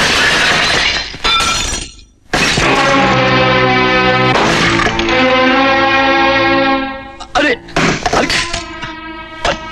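Glass objects smashed and shattering in a 1998 Hindi film comedy scene, with a loud burst of breaking glass, then a long ringing, tonal crash that fades into several smaller clinks and crashes, while people talk in between.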